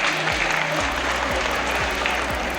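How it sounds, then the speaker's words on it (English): Audience at a school investiture ceremony gives a loud, sustained round of applause that fills a large hall, while low musical tones sound beneath the clapping. "A huge round of applause,"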